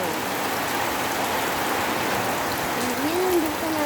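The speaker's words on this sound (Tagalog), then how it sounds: "Oh, ang lakas ng ulan," Heavy rain pouring steadily as a dense, loud hiss on surfaces, with a brief faint tonal whine near the end.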